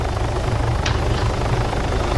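Helicopter in the video game Altis Life, a steady low rotor drone with chopping pulses throughout a short stretch, loud and close.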